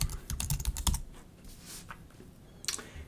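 Quick bursts of keystrokes on a computer keyboard as a domain name is entered, close and clear, a fast cluster of clicks, a pause, then a few final taps.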